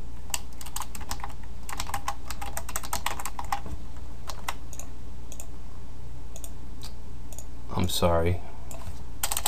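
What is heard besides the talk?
typing code on a computer keyboard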